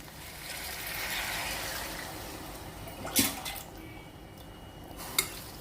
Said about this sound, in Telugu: ఇప్పుడు వాటర్ వేస్తున్నానండి.